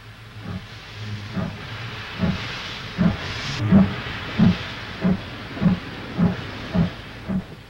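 A train rolls along with a regular rhythmic clatter of wheels over rail joints, each thump evenly spaced, under a soft steady hiss; heard aboard the Michinoku train bound for Aomori.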